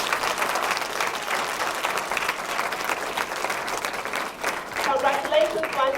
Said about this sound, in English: let's give ourselves a big round of applause for a good work done